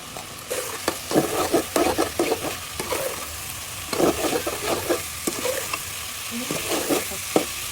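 Spices and pieces of fish are stirred in a hot pan, with continuous sizzling frying and frequent close scraping and clattering strokes from the spatula, moderately loud.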